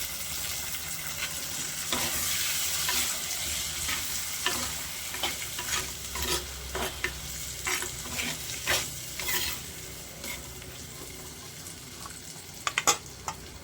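Beans are tipped into a pan of browned onions and fry with a loud, steady sizzle, while repeated stirring and scraping clicks sound close up throughout.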